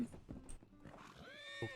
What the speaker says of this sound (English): Is that your horse?